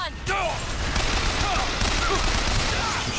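A machine gun fires in Bioshock Infinite, dense rapid bursts of gunfire running almost continuously, with brief game voice fragments layered on top.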